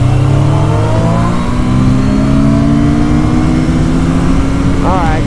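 Motorcycles accelerating hard in third gear side by side in a race, a loud close engine roar with steadily rising pitch that holds throughout and drowns most other sound, with a voice briefly audible near the end.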